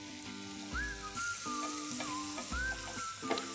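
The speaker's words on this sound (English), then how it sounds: "Once the butter begins to melt, I'll add in crushed garlic and along with this, chopped onions." Crushed garlic and chopped onions sizzling in melted salted butter in a pan for Mumbai street-style black pav bhaji, a close, low, steady sizzle with soft stirring, a whistling tone rising and falling over it.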